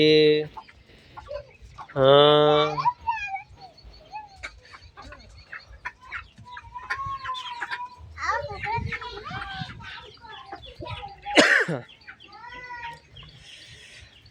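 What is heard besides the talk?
chickens and roosters clucking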